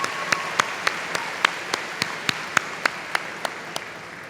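Applause at a high school graduation ceremony, with a series of sharp, evenly spaced claps rising above a steady background of clapping across the hall.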